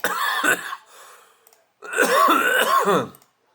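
Close, harsh coughing and throat clearing in two bursts separated by a short quiet gap.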